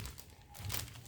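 A plastic bag filled with moist, fertilized soil crinkles as it is wrapped around a scraped section of a plant stem, producing a soft, quiet rustle lasting about a second.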